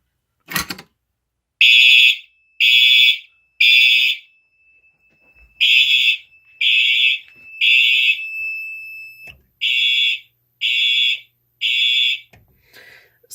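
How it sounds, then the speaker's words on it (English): A fire alarm from an MS-5UD panel during a system test sounds in repeated loud, even bursts of a warbling electronic tone, separated by short silences, with a steady faint tone lingering between some pulses. "That kind of warble that you hear in the tone of the alarm"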